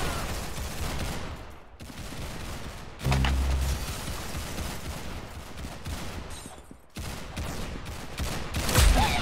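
Roblox Arsenal gunfire: rapid, dense bursts of shots in several loud stretches broken by brief gaps, close and punchy, with no talking.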